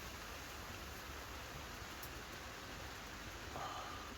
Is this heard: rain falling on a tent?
yes